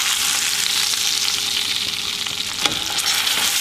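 Steak sizzles in a frying pan with rosemary while being basted, a close, steady hiss and crackle of hot fat with one sharper clink partway through, no talking.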